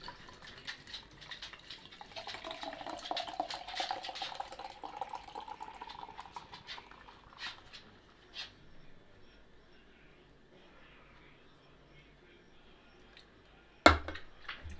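An English IPA is poured from a can into a glass, giving a faint, steady trickle and fizz of liquid that fades out, followed by a single sharp click near the end.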